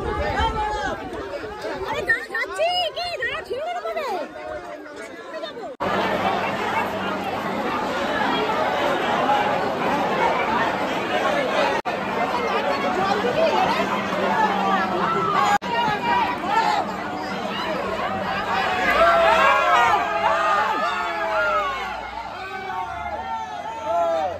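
Dense crowd chatter fills a packed train during the Maghi Purnima festival crowds at Tribeni, a continuous loud babble of many voices close around, with jostling movement throughout.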